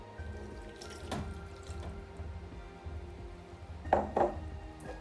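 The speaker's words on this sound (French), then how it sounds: "Je verse mon lait." Milk is poured into cake batter in a bowl, a soft liquid trickle with faint clinks of utensils and a couple of brief louder splashes near the end.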